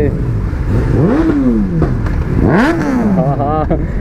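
A superbike engine at a college auto meet revs hard twice as the throttle is twisted, pitch sweeping up then falling back, over a loud crowd and other engines nearby.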